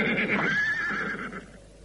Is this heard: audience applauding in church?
no